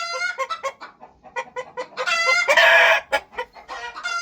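Farm chickens cluck in quick bursts close by while a rooster lets out a loud crow midway, followed by more clucking and another crow rising at the end.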